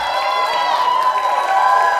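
A Christmas Eve studio audience roars with cheers and some applause, a steady, close crowd noise with no single voice standing out.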